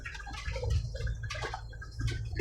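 Floodwater runs across the desert in Saudi Arabia after a night of heavy rain, a low close-up gurgling and rushing with splashy bursts.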